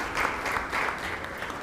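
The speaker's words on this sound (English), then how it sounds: "Please clap for him as he comes on stage." Audience at a fintech summit claps as a speaker comes on stage, a brief wash of steady applause from a crowd, fairly loud and continuous.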